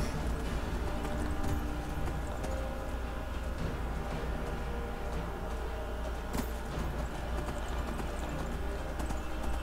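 Horse hooves clip-clopping in the Skyrim video game, a steady galloping rhythm of hoofbeats running continuously over a dense game soundscape.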